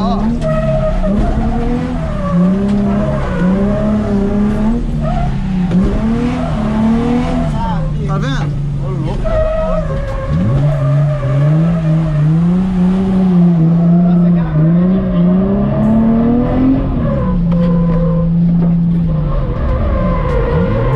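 A Nissan 350Z drifts with sustained tire squeal over a continuously revving engine, the wailing screech rising and falling throughout, with a voice talking over it.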